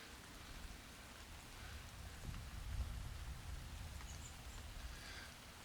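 Steady rain falling on a still, windless, muggy evening in Clinton, Missouri, a soft continuous hiss with low rumbling underneath that swells slightly midway, heard alone with no voices.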